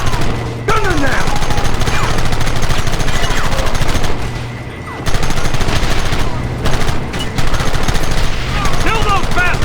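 Gunfire in Red Dead Redemption, a dense, continuous rattle of rapid shots and volleys that barely lets up, with distant voices shouting faintly through the barrage.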